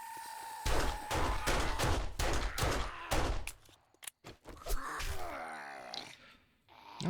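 Gunfire in the survival game 7 Days to Die: a rapid string of about a dozen loud sharp shots in quick succession, followed by scattered impacts, groaning and scuffling.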